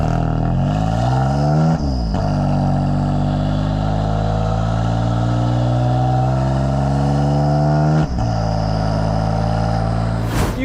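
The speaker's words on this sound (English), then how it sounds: "listen to those pops and bangs, mate" A BMW M4 driven on the road, its engine and exhaust rising steadily in pitch through hard acceleration, loud and close, with two abrupt breaks around gear changes and no speech over it.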